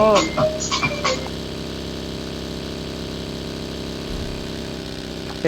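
Boat engine in the mobile battle-royale game BGMI drones steadily and loudly throughout, with a few brief higher bursts at the start.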